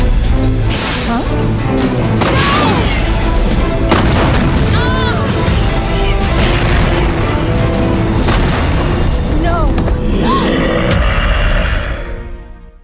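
Booming rocket launcher blasts in a Resident Evil game crash through a dense, loud mix of rumbling impacts, grunts and music that fades out at the end, with voices speaking over it.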